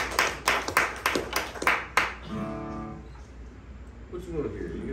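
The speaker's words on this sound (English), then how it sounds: "give a round of applause for your damn selves" Audience at a live show clapping in a short burst of about eight sharp claps, then a brief harmonic tone before quiet room murmur takes over.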